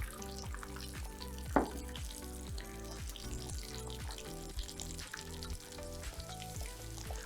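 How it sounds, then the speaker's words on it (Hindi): An egg burger mixture, seasoned with chaat masala, frying in a pan, with a steady sizzle running beneath louder rhythmic background music. "फ्राई करना है"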